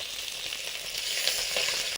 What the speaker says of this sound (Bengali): দুটো কড়াইতে 5টা করে মাছ ভাজা হচ্ছে